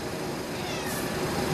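A small cat meows outdoors, the call faint and partly buried under a steady broadband wash of background noise, with no talking over it.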